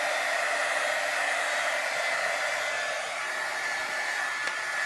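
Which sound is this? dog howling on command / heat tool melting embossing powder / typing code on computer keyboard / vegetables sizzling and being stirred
heat tool melting embossing powder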